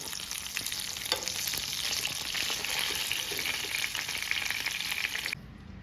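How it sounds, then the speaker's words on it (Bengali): Pieces of katla fish fry in hot oil, a dense, even sizzle holding steady for several seconds before stopping abruptly. "তোমরা দেখতে পাচ্ছ আমার মাছ ভাজা অলমোস্ট কমপ্লিট"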